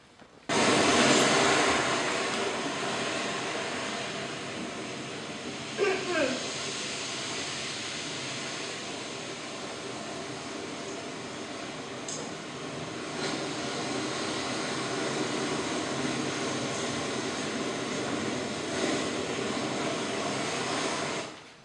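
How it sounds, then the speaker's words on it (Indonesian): Ocean waves breaking at a beach, used as a quiz sound effect: a steady, loud, broad hiss-like roar that swells and recedes over about twenty seconds, with no voices. "Pantai. Ombak."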